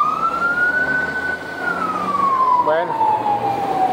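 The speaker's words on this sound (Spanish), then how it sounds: "Sale el autobús cuando viene la ambulancia con sirena y le estorba." Ambulance siren on a street in Cuernavaca, Mexico, wailing in a slow rising and falling sweep over steady traffic noise, loud and fairly close, with a brief spoken word partway through.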